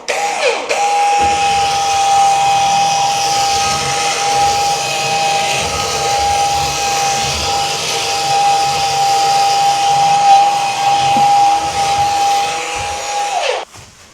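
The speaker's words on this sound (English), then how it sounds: "let's see how well our scrubber works on the bath" A Ryobi power scrubber cleans a bath, its motor giving a steady, loud electric whine with a constant high tone that runs unbroken for about thirteen seconds before cutting off.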